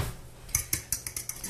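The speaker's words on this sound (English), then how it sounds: "We're going to beat it up a little bit." Fork beating two eggs with parsley, basil, oregano, Parmesan, A1 sauce and grated onion in a bowl for a low-carb meatloaf, giving a quick, faint, evenly spaced series of light clicking taps.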